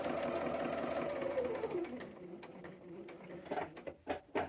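A home sewing machine stitches a Y-seam on a quilt block, a steady whirring run that slows and stops, followed by a few short bursts of back stitches.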